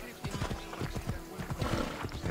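Rapid hoofbeats of a galloping horse in the video game Assassin's Creed Odyssey, a quick repeated thudding rhythm close by, with a voice speaking over it.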